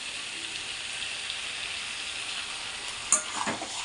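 Pumpkin curry with spices frying in a pan with a steady, close sizzle, and a few stirring scrapes and knocks near the end.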